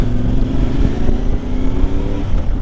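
CF Moto 450 MT motorcycle engine running close by with a loud, rough, throbbing idle and uneven low pops and crackles throughout, no talking.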